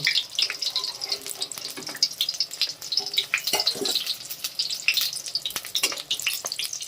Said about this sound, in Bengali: এরকম লাল লাল করে সব রোলগুলো ভেজে নেব